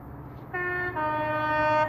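A passing train with Class 43 power cars 43084 and 43131 on the Great Western Main Line at Didcot Parkway sounds its two-tone horn, a loud near blast whose second, differently pitched note joins the first and holds strongly to the end.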